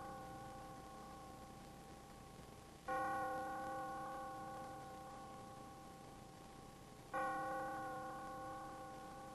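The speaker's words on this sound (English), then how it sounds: "The first chimes were played by soft horsehide leather." A Herschede grandfather clock chimes, its tubes struck by soft horsehide leather hammers, giving two mellow, sustained strikes with long ringing decay, clear and alone with no talk.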